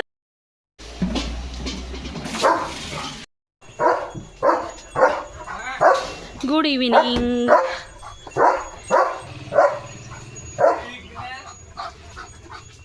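A German Shepherd barks repeatedly in a rhythmic string of loud, close barks, with people talking nearby and a brief whine in the middle.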